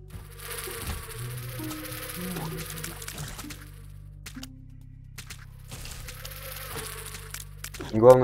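Flies buzzing in The Binding of Isaac, a whining insect drone that comes and goes over steady game music and effects, moderately loud, with a brief louder burst at the end.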